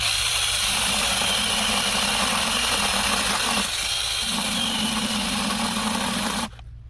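A small mini chainsaw, a cheap AliExpress model, runs steadily at close range with a constant buzzing drone for about six seconds and then cuts out abruptly near the end.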